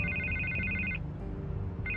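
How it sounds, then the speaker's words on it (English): A telephone rings in the Batman: The Telltale Series video game, a rapid electronic trill that sounds for about a second, pauses, then starts again over a low background rumble. "I can't get the phone to stop ringing."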